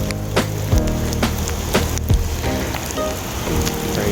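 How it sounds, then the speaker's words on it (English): Wind and rain during Hurricane Sally beside a swollen bay, with a steady loud wash of rain and gusting noise broken by sharp irregular knocks and impacts. "It's just a lot of wind and rain"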